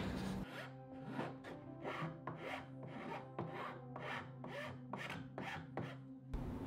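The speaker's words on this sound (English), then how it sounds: "a cheap file will make quick work of those rough edges" A cheap half-round file rasps along the rough, freshly cut edges of a wooden corbel in steady, close back-and-forth strokes, roughly a dozen evenly spaced passes with no talking.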